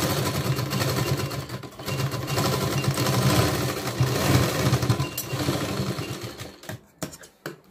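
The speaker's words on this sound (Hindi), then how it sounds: "अब हम यहाँ पर इसको सिलाई लगाएंगे।" A sewing machine runs steadily while stitching a decorative tassel (latkan) for a blouse, a close, continuous whirring drone that stops near the end, leaving a few faint clicks.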